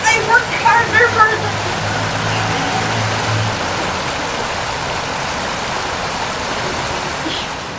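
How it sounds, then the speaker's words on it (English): Floodwaters rush in a steady, loud, broadband roar that carries through the whole passage. Brief bird-like chirps and a low tone sit on top near the start, and the roar then continues alone. "The powerful flood swept everything away."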